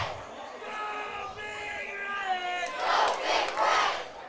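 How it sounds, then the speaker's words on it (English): A crowd at a Riverton vs Evanston high school football game chants "Go Big Red", the voices swelling in rhythmic waves after a sustained unison call, loud and reverberant across the stands. "looking out at the crowd here, Baylor, as they chant, "Go Big Red.""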